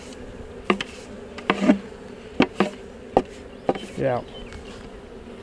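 Honeybees being brushed out of a nuc box give off short, loud bursts of buzzing close by, several separate buzzes and one rising whine against a quiet background, with a single brief spoken word.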